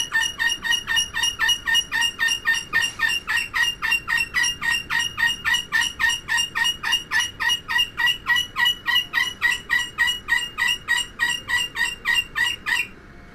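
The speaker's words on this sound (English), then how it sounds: "Yeah, that bird's going nuts," A bird calls loudly and insistently, repeating a rapid, even series of sharp calls nonstop for the whole stretch, close and prominent with no talking over it.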